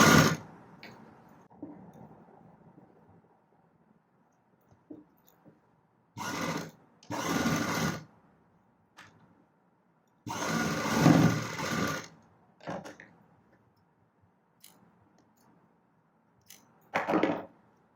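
Sewing machine stitching a blouse in short bursts of whirring, several separate runs of varying length with quiet pauses between them.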